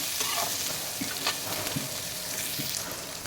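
Chopped onion, beans and carrot fry in an oil-slicked pan for a semolina kichadi, giving a steady close hiss with a few soft stirring scrapes.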